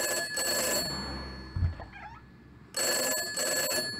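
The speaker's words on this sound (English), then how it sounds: "a phone rings in an empty phone booth." A telephone rings in an empty phone booth on a gray city boulevard, two bursts of ringing with a pause between, fairly loud and close, with no voices.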